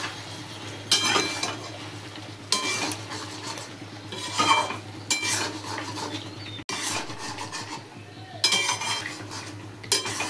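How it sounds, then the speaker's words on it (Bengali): A spoon scrapes and clinks against a pan while stirring thickened chili chicken gravy, in several bursts of scraping separated by quieter pauses, close and moderately loud with a low steady hum beneath. "এবার নাড়তে হবে, ঘন হয়ে যাবে এখন।"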